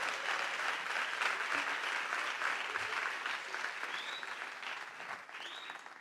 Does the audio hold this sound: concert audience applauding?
yes